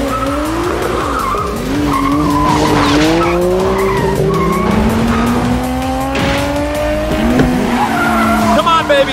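Toyota Corolla racing in the BeamNG.Drive video game, a loud engine whine rising and shifting through the gears while tires squeal and skid repeatedly, with someone talking over the game sound.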